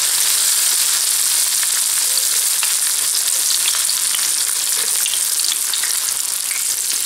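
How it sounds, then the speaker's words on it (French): Bourek pastries frying in hot oil, a steady, bright sizzle with fine crackling pops that stays loud and even throughout, with no one speaking. "Dans une friture chaude."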